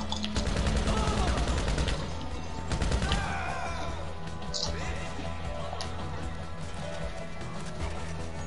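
Rapid gunfire from a video game gun, dense bursts of shots that run back to back, heaviest in the first few seconds and then thinning, with faint voices underneath.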